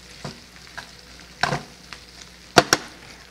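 Onions frying in a pan are given a quick stir. Several sharp scraping clicks from the utensil sit over a soft, low sizzle, with no talking.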